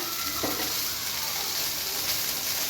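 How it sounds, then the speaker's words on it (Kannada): Onions and tomatoes fry in a pan with a steady, close sizzle and crackle that runs throughout, a few stirring scrapes rising briefly above it and no voices. "ಇದೆಲ್ಲ ಆಲ್ಮೋಸ್ಟ್ ಫ್ರೈ ಆಗೈತಿ"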